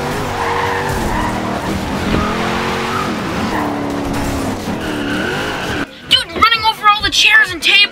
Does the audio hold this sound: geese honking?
no